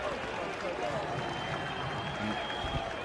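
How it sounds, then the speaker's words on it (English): Rugby league crowd at a Toronto Wolfpack versus Hull KR match in 2018, a continuous roar of cheering and clapping filling the stadium, heard from a distance under commentary. "The crowd lift again as Hull Kingston Rovers make the error."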